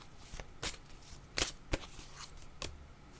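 Tarot cards being shuffled close up: quiet riffles and sharp snaps in irregular bursts, with soft handling between them and no voices.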